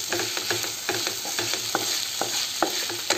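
Dum aloo stirred and mixed in a frying pan, a close hiss of frying under a quick series of spoon scrapes and knocks against the pan in an uneven rhythm, with no talking.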